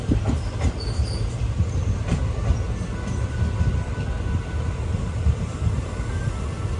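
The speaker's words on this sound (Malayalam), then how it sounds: "വർക്കല ശിവഗിരി റെയിൽവേ സ്റ്റേഷനിലേക്ക് ഇതാ നമ്മുടെ ട്രെയിൻ എത്തിക്കൊണ്ടിരിക്കുകയാണ്" Passenger train arriving at Varkala Sivagiri station, a continuous close rumble with clickety-clack wheel rhythm and faint squeal, no voices.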